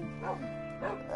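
Dogs in the video game Minecraft giving a couple of short, soft yipping barks, close and moderately quiet over a steady background hum.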